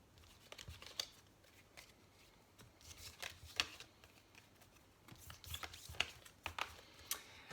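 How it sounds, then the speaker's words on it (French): Tarot-style cards are shuffled for a card reading, with soft, irregular riffling and flicking bursts at moderate distance against a quiet background. "je vais procéder au tirage des cartes"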